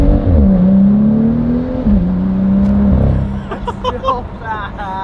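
A BMW M2 engine revs loudly up close, its pitch rising and dropping through gear changes before easing off as voices chatter over the tail end.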